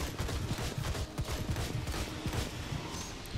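Gunfire from the video game Blades of Time, a dense run of rapid shots and impacts layered over game music and effects, steady and fairly loud throughout.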